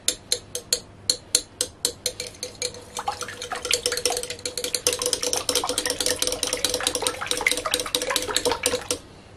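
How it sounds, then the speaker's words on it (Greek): Eggs being whisked in a bowl, a whisk or fork clinking rhythmically against the sides in quick repeated strokes, near and clear, starting as separate taps and settling into a steady rapid beating. "Ανακατεύουμε λιγάκι."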